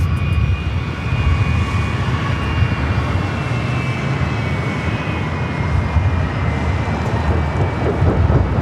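Engines of an old TWA Boeing 757 airliner bound for Boston thunder steadily and loudly at Los Angeles airport, a broad continuous roar with a faint high whine, with no talk.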